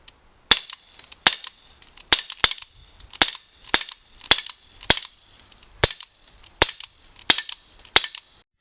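Umarex Walther P38 CO2 blowback BB pistol fired twelve times at a steady, slightly uneven pace, each sharp crack followed by the metallic clack of the slide cycling, close and loud with no talk.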